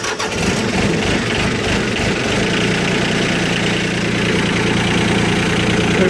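A repowered diesel engine in a Cub Lo-Boy tractor cranks briefly, catches and settles into a loud, steady running drone close by, with no talk over it.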